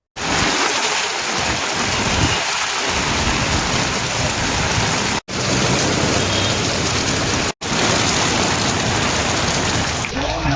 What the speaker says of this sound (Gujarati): નવા બજારની અંદર અત્યારે એટલો મુસળધાર વરસાદ પડી રહ્યો છે